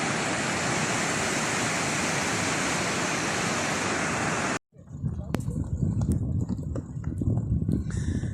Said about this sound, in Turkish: Kar sularının oluşturduğu bu dere ihtişamla akıyor.